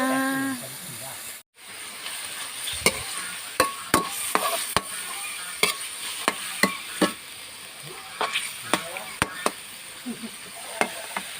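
Pork stir-frying in a pan for a Thai stir-fry of long beans with shrimp paste, a steady sizzle broken by repeated sharp scrapes and clacks of a spatula against the pan.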